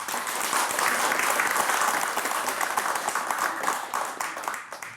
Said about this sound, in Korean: 박수 안 칩니까?